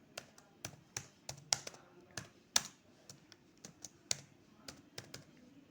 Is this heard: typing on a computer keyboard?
yes